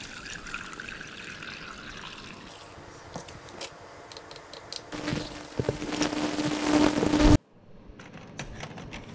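Water trickles and splashes as moped parts are rinsed and scrubbed in soapy water, building to a louder pouring rush before stopping abruptly, then quiet dribbling.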